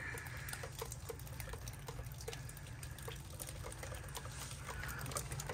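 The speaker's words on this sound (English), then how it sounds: "But you can see the water dripping down here." Water runs and drips down the wall of a building near its doors, a faint, steady trickle with soft, irregular drip ticks scattered throughout.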